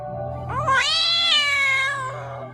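A person imitates a kitty cat meowing with one drawn-out, rising then falling nasal meow of about two seconds, loud and close, with no other talk.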